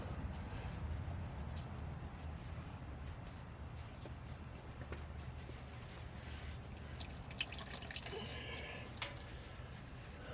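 Engine oil draining from an open drain plug during an oil change, a faint, steady liquid trickle and drip running continuously under low background noise.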